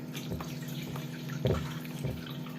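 Water tipped from a bowl while preparing dough with flour and semolina splashes and trickles nearby, a short wet pour with a slightly stronger splash midway and no talk.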